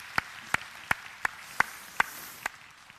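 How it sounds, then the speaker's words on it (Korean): A handful of sharp, separate claps from a church congregation at an even, unhurried pace, faint and distant, with quiet room tone between them. "우리 박수로 한번 격려하겠습니다."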